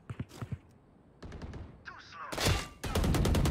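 Gunfire in a competitive ranked shooter match, with a few quick shots early, then louder overlapping bursts and a sustained rapid volley near the end, mixed with game effects and voice chatter.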